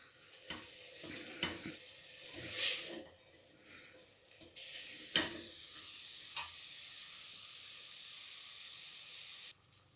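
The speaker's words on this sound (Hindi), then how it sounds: "अब इन्हें 3 मिनट फ्राई करेंगे।" Chicken pieces fry in a pan with a steady sizzle, broken by several stirring clinks and scrapes, close and fairly quiet, with no voices.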